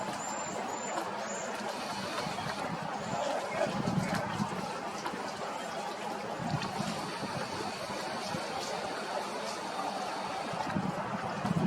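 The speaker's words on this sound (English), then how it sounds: "The calming sound of running water by our camera" Running water flows steadily close by under a storm sky, a continuous broadband wash with wind, while a voice talks through much of it.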